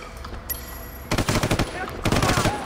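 Gunfire in the Sleeping Dogs video game bursts out in two rapid automatic volleys of close, loud shots, separated by a short gap, over a low background rumble.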